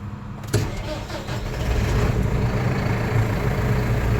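A Massey Ferguson loader tractor's diesel engine cranks and catches after a glow-plug wait, a sharp start near half a second followed by a loud, steady rumbling idle up close.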